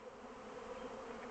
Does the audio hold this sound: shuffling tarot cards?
no